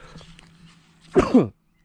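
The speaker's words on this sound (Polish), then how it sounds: "kichawka mi się włączyła" A man sneezes outdoors while planting potatoes, a sharp double burst about a second in, loud and close, after a stretch of quiet background.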